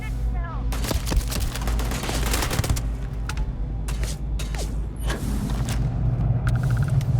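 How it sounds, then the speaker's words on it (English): Gunfire in the science-fiction video game Starfield, a dense run of sharp rapid shots and booms over a low rumble, then scattered single cracks. "It's a gun."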